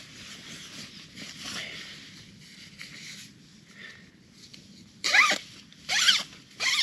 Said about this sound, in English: so I undo the zip just until the end